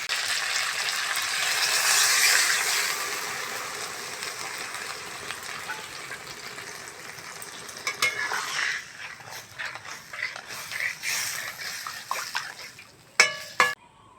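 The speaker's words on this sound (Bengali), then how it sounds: "এবার জল দিয়ে দেবো।" Water poured into a pan of cauliflower and egg curry, a hissing rush that fades into a low steady simmer, followed by a few sharp clinks of utensil on pan near the end.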